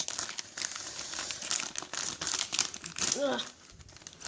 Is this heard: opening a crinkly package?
yes